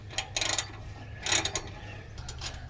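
A ratchet tightens the intake piping clamp on a Subaru BRZ during an Invidia N1 exhaust install, two short bursts of quick, close clicking, fairly faint, with no talk.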